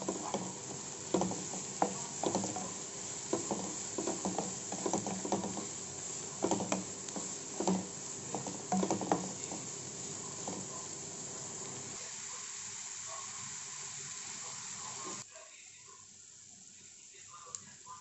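Chopped onions sizzle steadily in hot oil in a kadai on a medium flame, with a continuous crackling fry, occasional stirring clatters, and a quieter, thinner sizzle toward the end.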